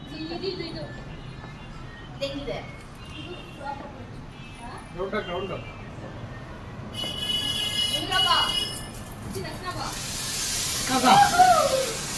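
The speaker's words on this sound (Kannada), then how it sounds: "ಅಲ್ಲಿ ಮೇಲ್ಗಡೆ ಮೆಟ್ರೋ ಹೋಗ್ತಾ ಇದೆ" A metro train passes on an elevated track overhead, its hissing rumble swelling and growing louder toward the end beneath ongoing conversation.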